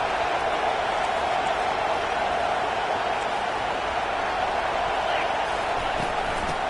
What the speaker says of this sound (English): This crowd going to try to make life miserable for these guys